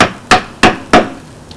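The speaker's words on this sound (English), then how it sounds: "I start using a hammer and a chisel, because it takes the wood out" A hammer drives a chisel into a wood sculpture, cutting away material in negative spaces: three loud, close, evenly spaced wooden knocks, each decaying quickly, with no voices.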